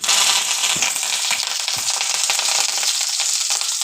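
Curry leaves and fennel seeds frying in hot oil for a cauliflower fry, a loud continuous crackling sizzle with sharp pops and spits throughout, no voices.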